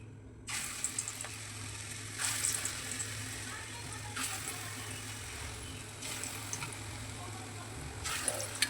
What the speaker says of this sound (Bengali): চলো বড়া ভেজে নেই।